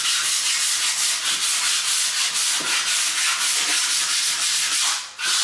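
A long-handled razor scraper pushed hard across a floor, giving a loud, close, continuous rasping scrape with rhythmic stroke pulses that breaks off briefly near the end before picking up again.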